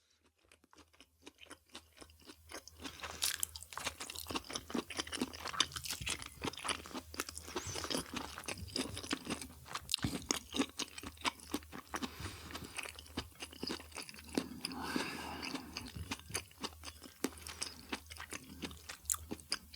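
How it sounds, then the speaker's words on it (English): Golden brown fried mushrooms are chewed up close, with a dense run of soft wet crunches and bites that keeps going for about twenty seconds without any talk. "My mushroom chewing sound."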